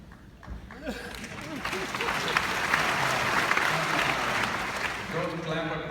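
Audience applause fills a meditation talk hall, dense steady clapping rising and holding loud throughout, with scattered voices and cheers mixed in over the crowd.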